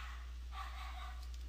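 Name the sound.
dog barking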